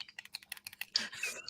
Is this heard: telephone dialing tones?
no